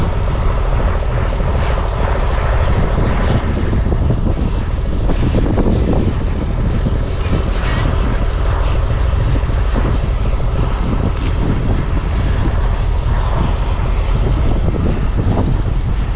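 A plane's aircraft engine on the ground in Antarctica roars loudly and continuously, with gusty wind buffeting the microphone throughout.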